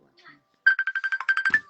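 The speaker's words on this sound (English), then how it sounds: "it's a phone. Someone will be calling you" Phone ringtone playing a rapid run of about ten evenly spaced electronic beeps, fairly loud and close, following a brief stretch of quiet with faint background murmur.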